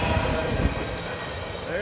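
Freight train drawn by two Union Pacific locomotives, roughly 100 ethanol tank cars behind them, rolling along a CSX subdivision, heard as a steady, fairly close rumble of cars with faint wheel squeal and no talk.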